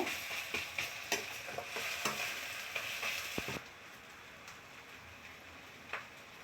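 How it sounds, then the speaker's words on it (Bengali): Dried red chili powder fries in a pan for a pabda fish dish with a close, busy sizzle. Quick stirring scrapes run through it before the sound drops to a softer, steady frying hiss. "এবারে আমি ঝালের জন্য দিচ্ছি শুকনো লঙ্কার গুঁড়ো এটা আরেকটু ভেজে নেব"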